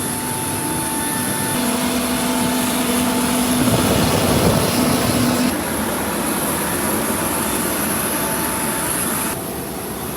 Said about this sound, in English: these auxiliary power units are a little jet generator. Make a lot of noise.